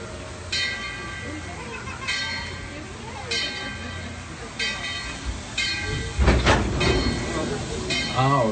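The Dollywood Express train rumbles steadily along the rails, with a bell-like clinking and brief metallic clatters, and voices murmuring faintly in the background.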